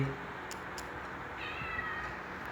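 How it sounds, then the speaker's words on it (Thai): A cat gives a faint, short meow partway through, heard alone over a steady background hiss. "แมวมา"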